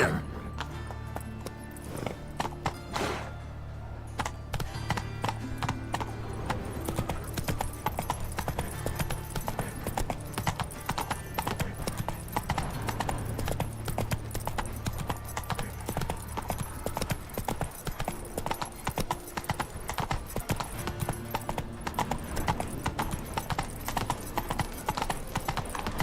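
A horse gallops in The Witcher 3, its rapid, rhythmic hoofbeats pounding steadily and close for the whole stretch over a continuous ambient game backdrop.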